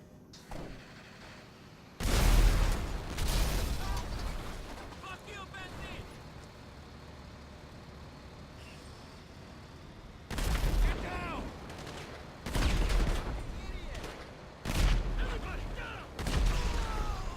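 A car blowing up in Grand Theft Auto V, a series of loud booming blasts spaced through the clip, with rumbling debris and crackling between them and a voice talking over parts of it.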